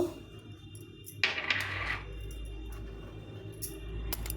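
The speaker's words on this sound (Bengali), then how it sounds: "এখানে আমি বোলের মধ্যে কয়েকটা কাজু, 4টে কাঁচা লঙ্কা আর কিছুটা পোস্ত" Cashews, green chillies and poppy seeds tumble into a bowl in a brief rattling patter, close and quiet, followed by a few faint ticks and a light clink near the end.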